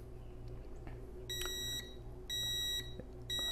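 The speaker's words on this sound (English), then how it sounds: "So if I hit start, there's the countdown timer." A Slevio portable home gym timer sounds its countdown: three long, steady electronic beeps spaced about a second apart, loud and clear over a low room hum.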